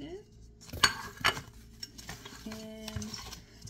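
Ceramic plates and bowls from a Target dinnerware set, chip and break resistant, are unpacked and handled, giving a few sharp close clinks and light clatter against a quiet room, with a soft steady hum partway through.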